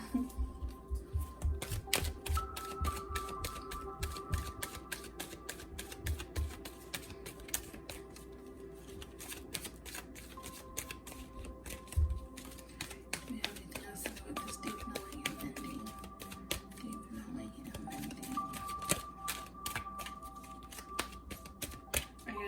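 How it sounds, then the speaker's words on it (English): Tarot cards being shuffled over and over, a dense run of soft crisp riffling clicks and flutters that goes on steadily throughout, fairly close and unaccompanied by any talk. "I'll do one more shuffle, see if anything else comes out."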